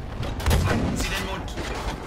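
A tank gun booms in Battlefield V, one heavy shot with a rumbling tail, close and loud over game noise, while a player talks.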